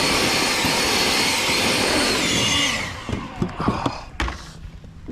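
A blower roars loudly and steadily at close range for a few seconds, then shuts off, leaving scattered clunks and knocks of handling equipment.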